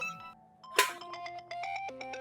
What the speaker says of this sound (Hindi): ये देखें, अम्मी की कॉल आ रही